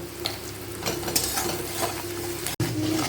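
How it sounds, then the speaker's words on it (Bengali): Sliced onions frying in hot oil with salt until crisp and brown, a steady close sizzle with occasional stirring scrapes throughout. "পেঁয়াজগুলোকে দিয়ে একদম ছাকা ছাকা করে কাঞ্চি করে ভেজে নেব"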